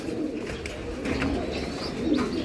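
Racing pigeons coo steadily in a loft, with low, throaty rolling calls repeating over a continuous murmur of the flock at close range.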